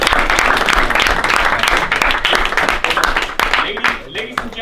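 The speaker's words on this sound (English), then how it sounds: "Let's give her a round of applause." A classroom of high school students applauds a classmate in a math lesson, dense close clapping that holds steady for several seconds, then thins and tapers off, with voices mixed in.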